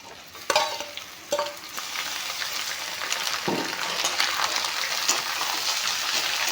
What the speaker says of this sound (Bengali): মাংসখিনি অলপমান ভাজি ল'ম